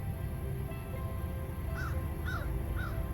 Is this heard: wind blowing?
no